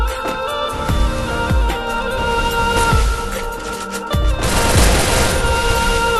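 Rapid bursts of gunfire and heavy booms in a shooting video game, dense and loud with steady game noise beneath, shots repeating at irregular intervals.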